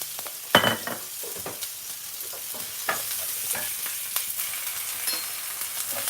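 Onion frying in hot oil with fennel seeds and kasuri methi for a biryani, a steady close sizzle broken by scattered stirring scrapes and a sharp clatter near the start.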